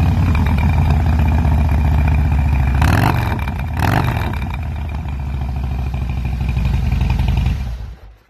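2016 Harley-Davidson Softail Slim V-twin with a Screaming Eagle air filter and Bassani 2-in-1 exhaust, a loud, deep, lumpy idle rumble punctuated by two sharp throttle blips before it settles and fades at the end.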